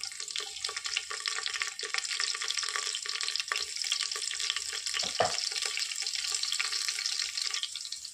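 Curry leaves and garlic sizzle in hot oil with cumin already in the pan, a steady crackling, hissing fry up close with a brief sharper pop partway through, no voices.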